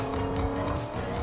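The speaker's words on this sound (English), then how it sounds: "I hear a car." A car drives in the Fortnite video game, a steady engine drone with a tonal hum. It stays loud and continuous, with no talk over it.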